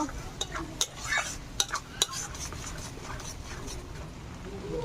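Poppy seed and almond paste stirred in a pan for a potol dorma, with soft scraping of a spoon, a few sharp utensil clicks and faint sizzling, close and alone.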